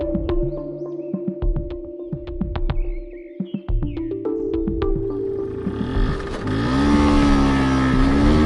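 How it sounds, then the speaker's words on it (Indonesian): A small three-wheeled motorbike engine putters and idles with a few clicks, then grows louder and drones steadily close by toward the end. "Itu kan suara motor roda 3-nya Bu Rini."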